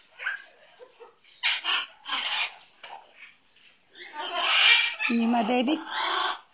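A pet bird chirps and squawks in short, close bursts between a person's affectionate talk, with a clearer warbling run of calls near the end.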